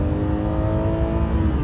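A car engine holds past 3,500 revs in a lower gear after a downshift, making a steady, close, strong mechanical drone with no voices.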